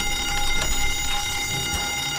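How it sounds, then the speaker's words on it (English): A bank vault alarm in the Gmod DarkRP game blares as a steady, continuous electronic tone, loud and unbroken throughout with no talk over it. "How long does the alarm last for?"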